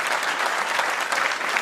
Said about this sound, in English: That got an applause.